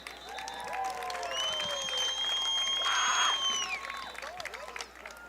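A high school football stadium crowd claps and cheers for a senior player at the final home game, with sustained applause and rising whoops and shouts that peak midway and then fade, while an announcer's voice echoes over the PA.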